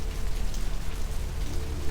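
Steady rain pours down in the Vampire: The Masquerade – Bloodlines video game, a dense, continuous hiss of drops on surfaces with no voices, holding at an even level throughout.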